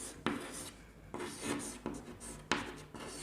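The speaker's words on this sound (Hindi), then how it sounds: "फर्स्ट एग्जाम्पल हम लिखते हैं" Chalk or marker strokes on a classroom board come in repeated scratchy bursts, each stroke starting sharply and rasping for about half a second. The strokes are close and fairly loud and no one speaks over them.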